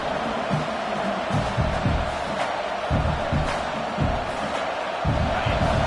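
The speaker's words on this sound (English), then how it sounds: "This crowd bringing the energy and noise early." Loud stadium crowd in a football video game roaring and cheering steadily, with rhythmic chanting swells and a voice speaking over the noise.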